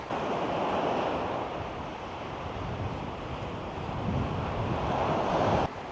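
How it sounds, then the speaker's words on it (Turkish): Strong storm wind roars steadily at Bodrum on the coast, mixed with the continuous wash of surf and waves, swelling and easing in gusts with no voices. "Rüzgar ara ara böyle şiddetleniyor arkadaşlar."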